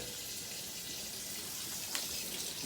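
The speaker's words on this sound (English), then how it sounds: "Step back and just rinse these beans." Canned beans rinsed under a running kitchen tap for a pasta e fagioli recipe: a steady, fairly soft hiss of flowing water with a brief splashy surge near the end, no talking.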